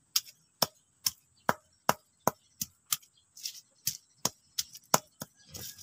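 Shallots are pounded by hand, probably in a mortar, in a regular series of sharp, close knocks that quicken toward the end, with no talking.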